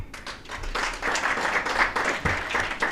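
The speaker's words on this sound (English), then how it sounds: "A round of applause for the IG" Audience applause after a speech by the Inspector General of Police at a Nairobi election security meeting, dense clapping from a room of people throughout.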